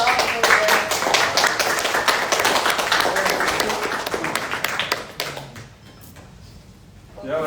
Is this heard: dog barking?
no